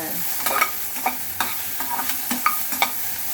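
Bottle gourd sautéed in oil, heard as a soft steady frying hiss with about eight distinct spatula scrapes and taps at uneven intervals, close by, with no voices.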